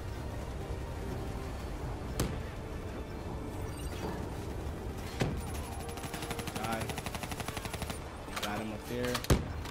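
Rapid gunfire from the Call of Duty: Black Ops 3 video game, a dense spray of automatic shots with sharp louder bursts standing out over continuous battle noise, with voices talking in the mix.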